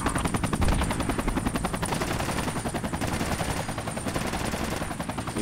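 A hovering helicopter in a shooter video game, its steady rotor throb running alongside rapid, rhythmic machine-gun fire that continues loud and close throughout, with no voices.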